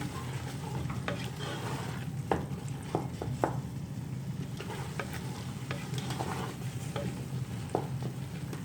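Carrot halwa with melting sugar fries and sizzles in a pan while a spoon stirs it, with steady scraping and occasional sharp clinks over a low, continuous sizzle.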